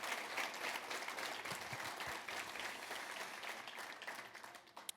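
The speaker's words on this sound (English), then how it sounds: "please join me in a round of applause for those two" Dinner guests at an ethics awards event applaud two honored leaders, a soft, distant, continuous patter of many hands that thins and fades out at the end.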